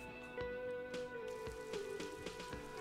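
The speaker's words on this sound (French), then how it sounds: "Il pleut." Rain falls in the video game Disco Elysium as a soft, steady patter, with scattered droplet taps over low ambient music.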